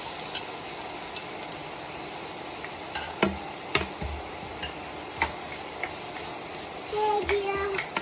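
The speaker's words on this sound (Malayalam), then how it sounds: "ക്യാരറ്റ് നന്നായിട്ടൊന്ന് കുക്കാവുന്നവരെ നല്ല രീതിയിലൊന്ന് വഴറ്റിയെടുക്കുക" Grated carrot sautés in a pan at home, giving a soft, steady sizzle broken by scattered scrapes and clicks as it is stirred, with a faint tonal beep near the end.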